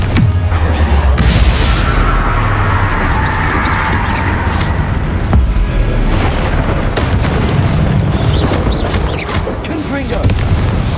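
A Confringo fire spell exploding in the Hogwarts Legacy game, with loud booming blasts and dense rumbling crashes over sustained combat noise while a voice speaks.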